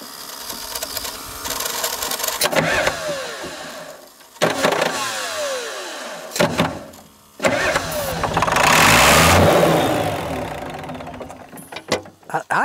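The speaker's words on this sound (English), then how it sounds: "I actually thought it sounded like it was going to crank before I hit that ether" A long-abandoned excavator found in a swamp, its engine cranking in repeated bursts after a shot of ether, sputtering and catching into a rough, loud run, with people talking in between.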